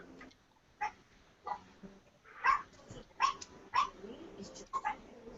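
A dog barks in short separate bursts, about six across the stretch, fairly close and moderately loud, with faint room noise and a little talk in between.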